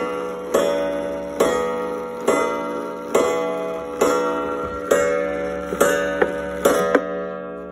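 A New Haven Jerome ogee wall clock strikes nine, nine loud, evenly spaced ringing chimes close by, each one decaying slowly into the next, with no talking.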